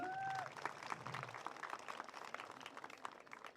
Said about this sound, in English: so a round of applause for Garyoshi.